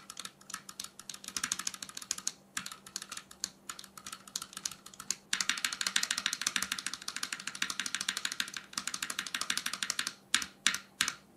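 Keystrokes on a Neo70 custom mechanical keyboard with its space bar flipped, close and crisp, forming rapid typing bursts that grow denser midway and then trail off into a few separate clacks.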